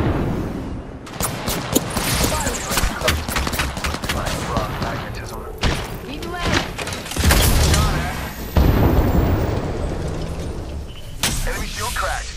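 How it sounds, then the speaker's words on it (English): A grenade blasts amid rapid gunfire in an Apex Legends battle. Heavy booms and bursts of shots come in clusters, and game voice callouts sound over the noise. "Look out, grenade."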